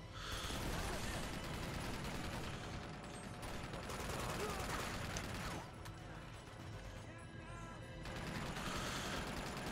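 Dense, sustained gunfire from a turret in Uncharted 2: Among Thieves keeps up almost without pause for about ten seconds, loud and close, and a faint voice now and then cuts in over it.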